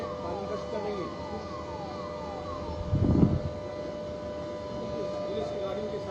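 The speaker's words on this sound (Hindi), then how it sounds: "पुलिस की गाड़ियों के सायरन भी हम सुन सकते हैं।" Police car warning sirens wail in repeated sweeping tones from some distance, over steady outdoor background noise with a brief louder rumble midway.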